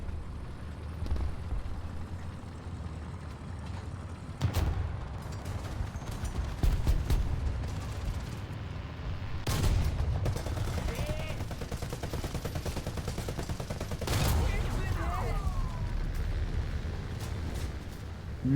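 Bursts of cannon and gunfire from a fast French amphibious vehicle in a video game, with sharp booming shots scattered over a continuous engine rumble and battle noise at moderate loudness.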